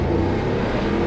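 BMW F750GS motorcycle engine pulling away, a loud, steady low rumble with a rising drone that continues evenly throughout.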